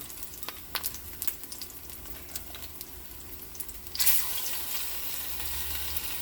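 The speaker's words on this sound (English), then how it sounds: "I'm going to continue frying these up" Plantains sizzle steadily in hot oil in a pan, with scattered pops and crackles, and then the frying swells louder partway through.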